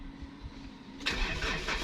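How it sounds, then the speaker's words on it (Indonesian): The engine of a 2016 Mitsubishi Triton GLS pickup cranks and catches about halfway through, then settles into a steady, close rumble after a quiet stretch of low hum. "baru kita bisa hidupkan mesin mobilnya"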